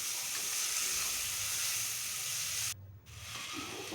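Chopped tomatoes frying in a pan with ginger garlic paste give a steady, close sizzle with a soft hiss, broken by one brief near-silent gap before the frying resumes.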